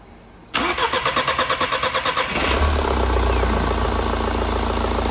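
A car engine starting after its fuel injector seals were replaced: a steady rhythmic starter cranking for about two seconds, then the engine catches and settles into a loud, even idle close by.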